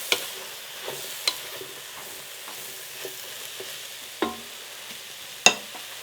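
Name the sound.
mushroom rice sizzling in the pan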